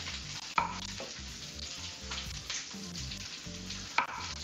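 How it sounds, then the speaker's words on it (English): Two peppers sizzle steadily in a frying pan in a home kitchen, a loud continuous crackling hiss with two sharp clinks of a utensil against the pan and no talking. "sizzling foods"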